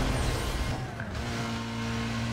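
Car engine in the racing game NFS Most Wanted, a loud strained drone holding steady at high revs, running continuously close up with no voices.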